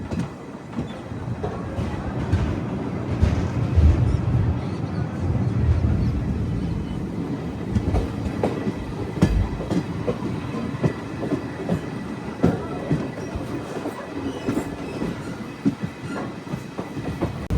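Visakhapatnam-Machilipatnam Express rolls along the rails after leaving Gudivada Junction, heard from inside the coach as a steady loud rumble with rhythmic clickety-clack of wheels over rail joints and faint squeals.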